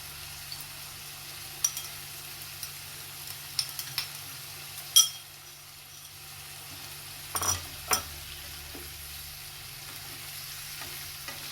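Quiet sizzling of canned fish stir-frying in a pan with occasional scraping and clinks of a utensil stirring, a few sharper knocks standing out against low background hum.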